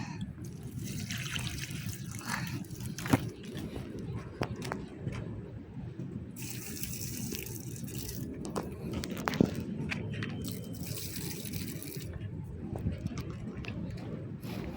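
Plants in a courtyard are being watered, with a steady trickle and splash of water running continuously and a few soft knocks and drips breaking through now and then.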